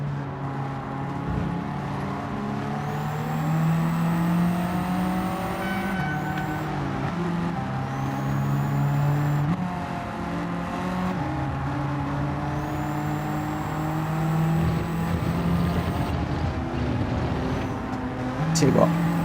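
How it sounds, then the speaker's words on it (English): A Pontiac GTO's engine in the Gran Turismo 7 racing game drones and rises through repeated gear changes, with a steady engine tone running under continuous talk throughout. "That GTO, if you can, jump into that because it sounds amazing."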